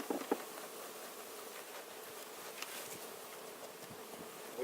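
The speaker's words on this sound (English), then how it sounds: "So that's what we're going to do, dump some bees." Honeybees from a package being dumped into a hive hum in a continuous, moderately near buzz, with a few soft knocks and pattering at the start and scattered light thuds.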